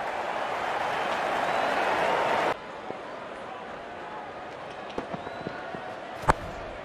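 A stadium crowd in the cricket video game Real Cricket 22 applauds a batsman's fifty during a Pakistan vs England Test. A dense wash of clapping and cheering fills the first part, then drops abruptly to quieter ambience broken by scattered clicks and knocks.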